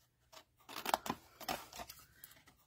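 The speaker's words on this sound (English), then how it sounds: "Go ahead and cut up all 4 score lines" Scissors cut along the score lines of paper for a squirrel-themed box with lid, several close, crisp snips in an uneven rhythm, quiet between cuts.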